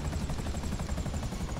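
A helicopter in a car-duplication video game sounds as a steady rotor whir with a rhythmic chop, loud and close and running alone throughout.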